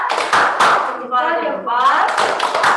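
Children chant the thumbs clap in a classroom, clapping in quick rhythmic bursts at the start and end while their voices sing the chant between.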